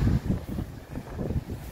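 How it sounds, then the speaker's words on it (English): Gusty wind buffeting the microphone on an exposed hiking trail near a rock climb, low rumbling bursts rising and falling continuously with no one speaking. "Well, there may be a little wind."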